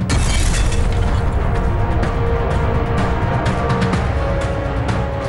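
A car packed with explosives, a Santro, blows up in a dense, continuous rumbling roar with crackling bursts, loud and sustained throughout.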